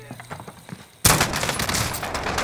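Video game gunfire, including a shotgun, erupts abruptly after a second of quieter game sounds, a loud dense burst of shots that keeps rattling to the end.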